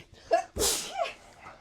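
A single sharp human sneeze, close and fairly loud, with a short breath intake before it, indoors amid unpacking of mixed returned items.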